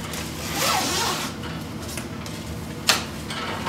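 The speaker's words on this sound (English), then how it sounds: "If I can get the zipper out here." Zipper on an Arctic Cat black nylon full-zip windbreaker jacket being worked, a continuous rasping slide with a sharper catch near the end, close and fairly quiet.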